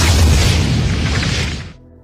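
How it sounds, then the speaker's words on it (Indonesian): A loud, booming explosion with a broad roaring blast that rumbles on for over a second, then cuts off abruptly to near silence. "mendengar suara ledakan"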